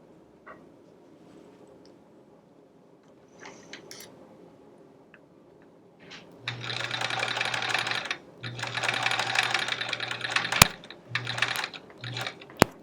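Sewing machine chain piecing small quilt block pieces, starting after quiet fabric handling with several loud bursts of rapid stitching separated by short pauses, plus a sharp click near the end.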